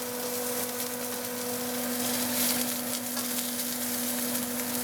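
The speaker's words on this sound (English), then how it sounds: "now that our butter is browned in the pan" Butter browned in a pan with a little olive oil gives a steady, even close sizzle with a faint constant hum beneath, no voices present.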